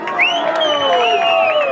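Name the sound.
crowd applauding and cheering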